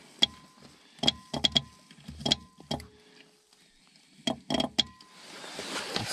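An electrical relay on a cheap wheel loader clicks repeatedly while powered through a jumper cable, sharp isolated clicks in irregular clusters, close and clear, followed by a rising hiss at the end.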